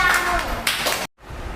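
Students in a spoken English class clap together in a brief, loud burst of hands, which cuts off abruptly and then resumes softly.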